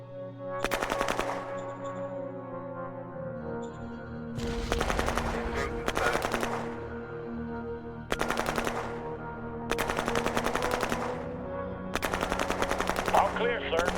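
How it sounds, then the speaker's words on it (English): Gunfire in combat from the video game Shadow Empire: five loud bursts of rapid automatic fire separated by short pauses, over a steady droning background. "We're taking fire."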